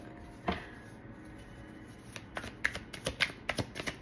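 A deck of cards is split and shuffled nearby, a sharp riffle burst followed by a run of quick crisp flicks and taps, fairly quiet with no talking.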